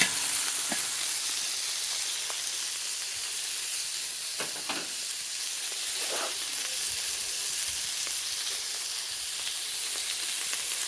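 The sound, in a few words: chicken browning in light olive oil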